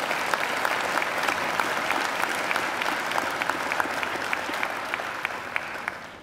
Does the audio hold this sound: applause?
yes